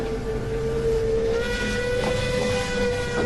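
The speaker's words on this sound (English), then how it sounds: "The engine whistled again" A steam engine whistles near a bridge at night, a steady high whistle tone held over a hissing, rumbling background, moderately loud and continuous.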